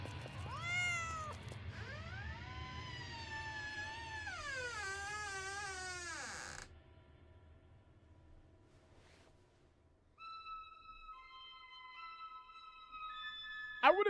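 Cat meowing in a horror video, a run of long, wavering meows up front with voices talking beneath, then a quieter stretch and a sharp, high tonal sound near the end.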